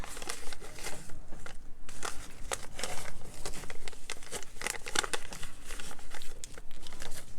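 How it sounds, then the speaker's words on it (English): Paper for a steampunk grunge craft is folded back by hand, producing close, continuous crinkling and crackling with short creasing bursts and brief pauses. "I'm going to fold it back while it's open, so it can actually fold"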